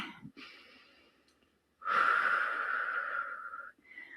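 Deep breaths during an exercise class, with a softer breath first followed by a long, loud, slightly wheezy exhale, close and heard alone without talking.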